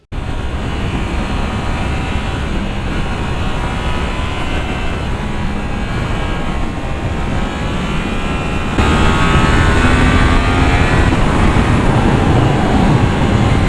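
A 2017 Yamaha MT-09 or MT-10 motorcycle accelerating hard on the road, a loud, continuous engine roar with rising pitch under strong wind rush, swelling louder in the final few seconds.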